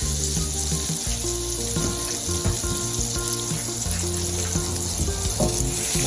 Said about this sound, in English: quickly going to fry them in 1 tablespoon of butter so that the onions are caramelized